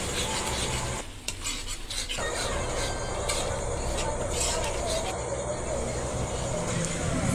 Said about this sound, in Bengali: গোবিন্দভোগ চালটা মশলার সাথে ভালো করে নাড়াচাড়া করব।